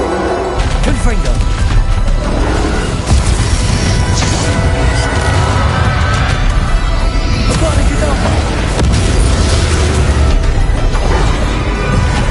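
Confringo spell blasts in Hogwarts Legacy burst repeatedly among dense, loud combat noise, crashing booms and impacts layered over continuous battle sounds with a voice present.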